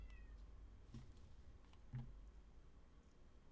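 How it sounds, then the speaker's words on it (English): A cat meows faintly inside a cave in a game, with two short, distant calls about a second apart over a low, steady background hum. "That was the sound of a cat."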